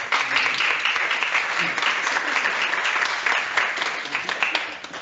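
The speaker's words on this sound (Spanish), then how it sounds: "un aplauso por favor a Javiera, muchas gracias" Warm audience applause for a speaker at a talk on patient safety and healthcare quality, a continuous dense patter of many hands clapping at steady volume throughout.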